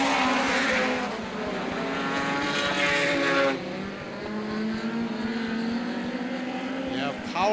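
NEMA midget race cars, including a lighter Volkswagen-powered car, roaring around a speedway during a race, engines buzzing loud and close with shifting pitch as they pass, under an announcer's commentary.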